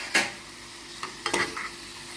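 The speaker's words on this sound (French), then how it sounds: "On mélange." Mushrooms and avocado cooking in a pan with a dash of organic hot pepper sauce are stirred, a quiet sizzle punctuated by several brief scraping and clacking strokes of the spoon.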